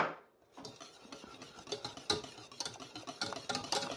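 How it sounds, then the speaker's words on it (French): A spoon stirs béchamel sauce in a pan, producing a close series of irregular scraping clicks and ticks against the metal, busy and unbroken, with no voices. "Et on n'arrête pas de touiller."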